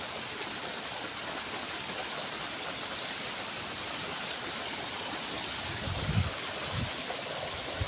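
A mountain stream flows strongly in a remote forest, a loud, steady rushing of water that fills the whole clip, close and continuous, with a few low thumps near the end.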